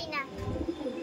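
Pigeons of the Delhi Madrasi breed coo in a loft, a low, steady murmur of overlapping calls across the whole moment, with a voice briefly present nearby.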